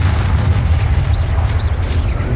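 A Confringo blast spell goes off in Hogwarts Legacy, a loud, booming low rumble that fills the whole moment, with no talking.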